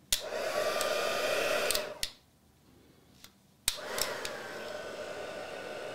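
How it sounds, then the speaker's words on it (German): Hair dryer on its lowest setting melting embossing powder for a collage craft project, a close loud whirring blast that cuts off, pauses briefly with a few clicks, then starts again. "das geht wirklich ganz schnell, wenn der Föhn erstmal heiß ist"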